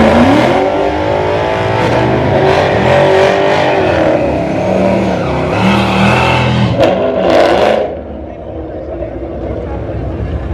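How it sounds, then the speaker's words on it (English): Honda car in a street race accelerates hard, engine revving loudly through rising and falling gear pulls for about eight seconds before fading, with voices and crowd noise mixed underneath. "okay, looks like Elvis is gonna race"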